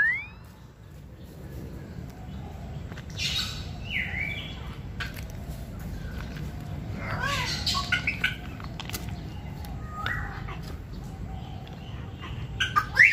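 Palm cockatoos in an aviary give scattered harsh squawks and whistled calls, some rising sharply, over a steady low rumble of background noise; calls come in bursts, louder near the end.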